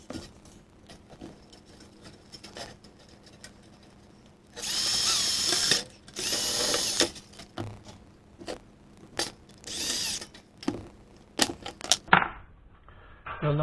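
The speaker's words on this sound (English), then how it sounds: "I'll put a couple of screws in and hold it together." A power drill drives screws into a sheet-metal tin for a firestop kit on a Case IH 8010 combine, several separate whirring bursts of a second or so each between lighter clicks and metal handling, close and loud with no talk.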